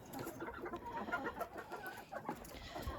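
Chickens inside a coop during snowy, cold weather cluck and murmur continuously at close range, several birds overlapping with soft calls.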